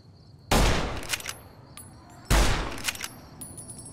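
Two sharp gunshot bursts ring out in the video game Enclave Commander, each a loud broadband crack followed by a decaying tail and smaller follow-up shots, spaced about two seconds apart with no talking.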